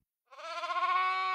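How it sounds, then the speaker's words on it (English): A single sheep bleat, clear and steady, about a second long and close to the listener. It rises out of silence with no other sound around it. "That's the sound of a sheep."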